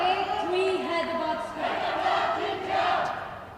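A crowd at a tennis match cheers loudly for the Chennai side, with sustained shouting and whooping voices rising and falling, while a commentator talks over it.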